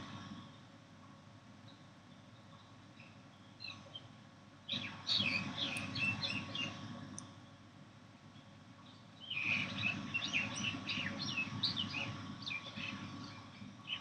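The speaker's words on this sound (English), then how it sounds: "the sparrows are like chee chee chee chee" House sparrows chirp in two busy, overlapping bursts of rapid high chatter, heard at a moderate distance from indoors over a steady background hum, with quieter stretches in between.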